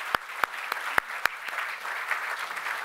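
A gathering at a formal awards event gives a round of applause for the Virginia Military Institute brass quintet. It sounds as a few sharp, separate claps over a steady indoor murmur, with no chorus of clapping.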